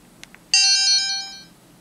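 A single bright ringing menu chime from Need for Speed Hot Pursuit on a Samsung SHG-A167 phone, a clean tone that rings out and fades over about a second after two faint clicks, with no talk.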